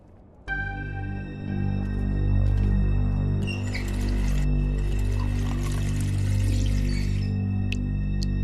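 Water pours steadily in a kitchen in The Wolf Among Us, a continuous splashing stream over a low hum with no talking.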